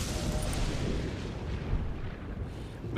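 A dense, rumbling boom of heavy cannon fire in the video game Elden Ring that rolls on continuously, loud and low, ending with a fresh burst.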